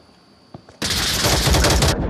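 Automatic gunfire in the VR shooter Onward, a loud sustained burst of rapid shots lasting just over a second, preceded by a couple of faint clicks.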